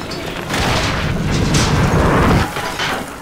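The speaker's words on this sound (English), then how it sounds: "They're shooting rockets at me." Rocket explosions in Bioshock Infinite land as loud, heavy booms, merging into a sustained rumbling blast that fades away after a few seconds.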